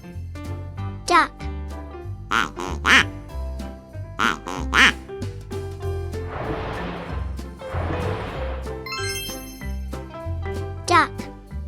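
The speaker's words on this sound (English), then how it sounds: "Duck." A cartoon duck quacks in several bright, nasal bursts set against cheerful children's background music, repeated a few times with short pauses between calls.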